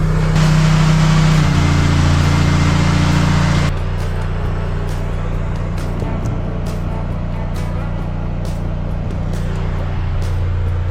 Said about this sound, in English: We'll get the plug plugged in and get this well pumping.